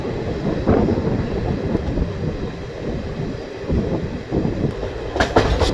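A passenger train on the Visakhapatnam to Araku line runs along the rails with a continuous rumbling roar and rhythmic wheel clatter, heard close from inside the train with wind noise and no talking.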